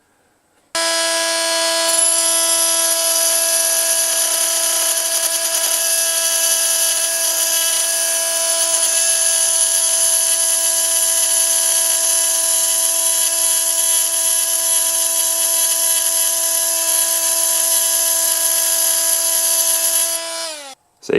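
A powered tool cuts an old Dux plumbing fitting clamped in a vise, giving a steady, high, tonal whine that holds evenly for about twenty seconds before stopping abruptly.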